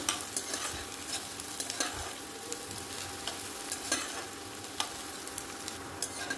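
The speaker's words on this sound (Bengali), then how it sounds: "পেঁয়াজটাকে একদম ব্রাউন কালার করে ভেজে নেব সুন্দর মতো" Finely chopped onions browning in a pan for a prawn malai curry, a continuous soft sizzle broken by repeated spatula stirs and scrapes at an uneven rhythm, close but fairly quiet, with no voices.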